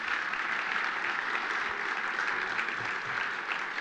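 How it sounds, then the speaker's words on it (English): An audience at a business event in the New York Public Library gives a round of applause, a dense, even roar of many clapping hands sustained without a break. "Give him a round of applause"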